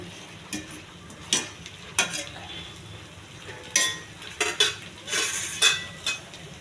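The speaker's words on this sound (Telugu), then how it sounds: "కొంచెం కలుపుతూ ఉండాలండి, మాడకుండా. పప్పు కదండి, తొందరగా అడగట్టేస్తుంది." Chana dal and ridge gourd fry being stirred in a pan, with a low sizzle underneath and irregular scraping clinks of a utensil against the pan recurring every second or so, close and moderately loud, no talking.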